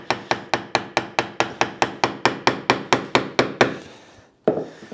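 A chisel works dovetail waste in wood with about seventeen sharp, evenly spaced close knocks in a quick steady rhythm, then a brief pause and one last strike.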